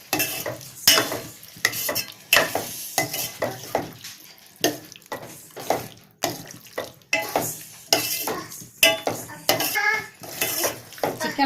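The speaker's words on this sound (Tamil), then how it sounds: "சிக்கனை வந்து நல்லா கிண்டி விடுங்க." Washed chicken pieces being stirred with masala in a pot for Ambur chicken biryani, a metal spoon scraping and clanking against the pot in repeated rhythmic strokes, close and fairly loud, with a faint sizzle underneath.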